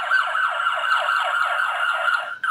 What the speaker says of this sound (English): The loud siren warns other drivers to move aside and let the police cars pass.